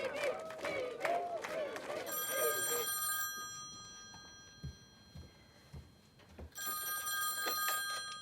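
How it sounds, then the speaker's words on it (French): A telephone bell rings in two long bursts inside a home, with people talking over the first ring and a quiet pause between the rings. "Allô? Allô, Mado?"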